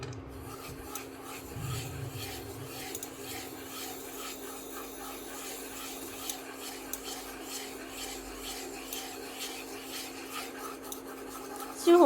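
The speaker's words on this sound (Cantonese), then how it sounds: "落些少油炒米粉" Rice noodles stir-fried in a little oil in a wok give a quiet continuous scraping and rustling of a spatula against the pan, faint and steady throughout, no voices.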